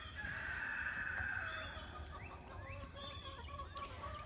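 Hens and a rooster in tractor supply coops cluck and call softly from a short distance, with a drawn-out crowing note followed by scattered overlapping clucks over a faint background hum.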